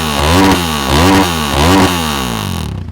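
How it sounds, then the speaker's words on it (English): A Husaberg 450 engine fitted in a John Deere racing mower revs hard in three rising-and-falling surges, loud and close, with a raspy, buzzing motorcycle-like tone and no talk. "I got a 450 Hasselberg in my John Deere over there."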